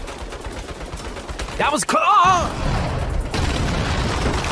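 Rapid turret gunfire and booming blasts in the 2022 Saints Row video game, loud bursts clustering around a sharp impact midway, with a shouted voice cutting through the barrage.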